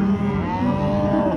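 A cow gives one sustained, loud, nearby moo on a ranch where calves, yearlings and bred heifers are being sorted, heard alone.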